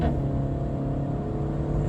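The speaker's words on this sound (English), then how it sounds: "you hear that engine just really wants to scream" A Renault Megane RS 2020 engine drones steadily and loud from inside the car while driving, a sustained revving hum during a downshift from fourth to third, with no talk.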